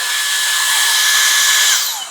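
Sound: Dyson Airstrait hair dryer starting and blowing air

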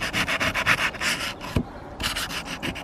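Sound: scrubbing rust and dirt off garden secateurs

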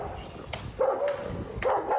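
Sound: dogs barking to chase away a bear

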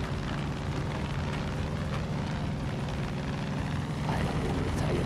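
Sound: helicopter chasing the player in the video game Far Cry 5

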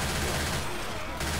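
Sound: gunfire in Left 4 Dead 2 video game

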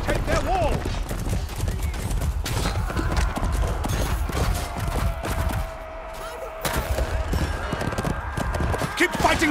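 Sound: horse from the video game Chivalry 2

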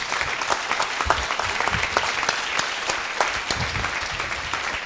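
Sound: applause from conference audience

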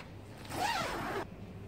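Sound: zipper on the door of an Aurora II tent

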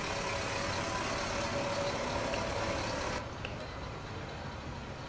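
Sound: diesel fire truck engine in a video game

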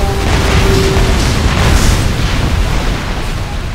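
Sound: anti-air gun explosion in video game Ace Combat: Assault Horizon

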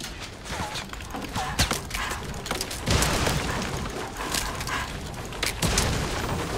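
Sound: gunfire in Fortnite Battle Royale video game

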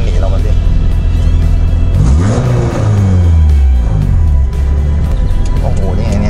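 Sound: Dodge Charger 5.7-litre engine accelerating

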